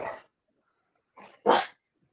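A dog barks in short, close, loud bursts: one bark, a pause, then a quick growly double bark, with silence between them.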